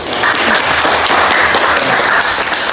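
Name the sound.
class applause for group 1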